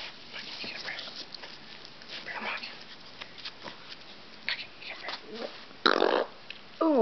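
A Toy Fox Terrier burps amid soft whispered coaxing, with a louder, brief belch-like burst near the end standing out from the quiet background.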